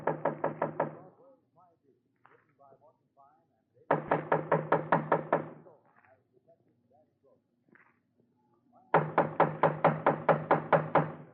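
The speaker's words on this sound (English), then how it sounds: "Just knock on the door" Knocking on a door in an old-time radio police drama, three loud bursts of rapid firm knuckle raps separated by pauses, with faint background sounds between them.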